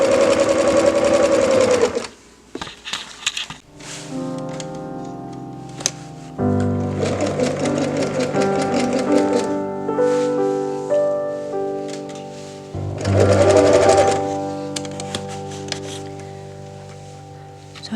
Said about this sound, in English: So I just attached the elastic into the leg opening.